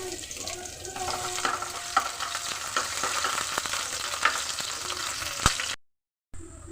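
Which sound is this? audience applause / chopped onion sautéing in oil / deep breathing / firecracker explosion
chopped onion sautéing in oil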